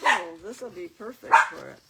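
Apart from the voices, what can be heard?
puppy dog barking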